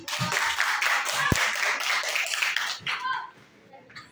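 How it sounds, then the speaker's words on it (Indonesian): A classroom of students claps for a classmate, a dense burst of hand claps lasting a few seconds before tapering off, with voices mixed in underneath. "Tepuk tangan dulu untuk si Adit"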